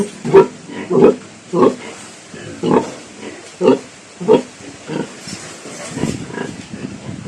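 Repeated short grunts from pigs on a backyard farm, loud and close, about seven in a steady rhythm, then a quieter, busier stretch of snorting near the end.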